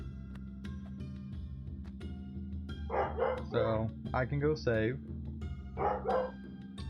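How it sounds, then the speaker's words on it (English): An indoor dog barks in a cluster of loud, close bursts over a low, steady game soundtrack, with someone speaking briefly before the barking. "I am sorry for the dog barking."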